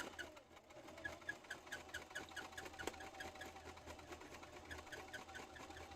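A sewing machine stitches fabric in a steady rapid mechanical patter, faint and even, with a low hum underneath and no talking.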